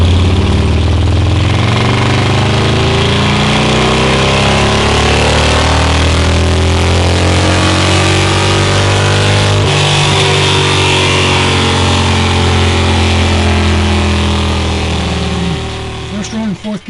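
A Harley-Davidson engine built up from a 107 to 128 kit is run on a dyno in 4th and 5th gear. It gives a loud, sustained, rising engine roar that holds for most of the run before easing off near the end.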